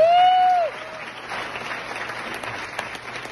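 Gala audience applause for the speaker's mother, light scattered clapping in a large room after a brief tone at the start, fairly faint and steady.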